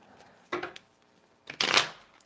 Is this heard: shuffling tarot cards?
yes